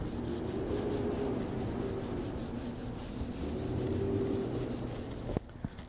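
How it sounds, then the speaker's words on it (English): Gloved hand rubbing across car paint rough with embedded contaminants: a steady raspy scrubbing with quick rhythmic back-and-forth strokes, close and fairly quiet, ending in a few light knocks. "So all that rough feel that you hear is actually embedded contaminants that are sitting on your paint and within the pores of your paint"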